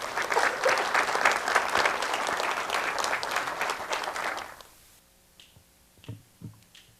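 Audience applause at a family-history book presentation, a dense roar of clapping for about four and a half seconds that cuts off abruptly, leaving near silence with a few faint scattered sounds.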